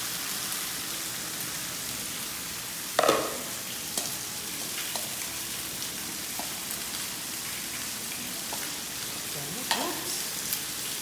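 Cooked Japanese rice stir-fried in a pan, frying-rice style, gives a continuous crackling sizzle that sounds like steady rain, with occasional sharp utensil knocks and scrapes.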